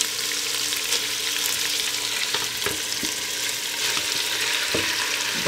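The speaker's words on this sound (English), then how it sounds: "We're gonna go ahead and drop in our pork into our heated oil. We're gonna get a nice sear on this meat." Pork sears in hot avocado oil in a loud, continuous close sizzle, broken by a few sharp clicks of stirring or utensil contact.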